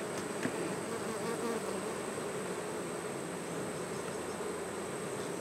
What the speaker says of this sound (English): Bees are going in and out.